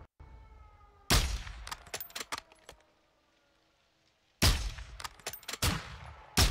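Gunfire in the video game Call of Duty Modern Warfare II comes as two sharp, loud volleys of rapid shots, each trailing off into scattered pops, separated by a quiet stretch with a faint tonal hum.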